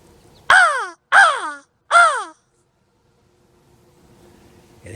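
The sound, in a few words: crows cawing in Hoosier National Forest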